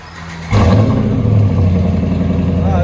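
A 2010 Dodge Ram 1500 with a 5.7L HEMI V8 and dual Black Widow Race Venom exhaust idles low, then bursts into a loud, deep rev near the half-second mark and holds a rumbling, throaty roar at high volume to the end.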